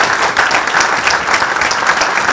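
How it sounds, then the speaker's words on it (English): Audience at an e-commerce event gives panelists a loud, dense round of applause, many hands clapping steadily and close for the whole short stretch. "a big round of applause for our panelists"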